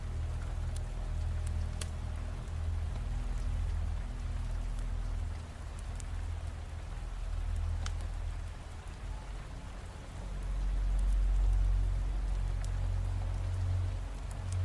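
Steady rain falls on a surface without a break, a dense, even hiss of drops with a low rumble underneath that swells and fades slightly, and no voices.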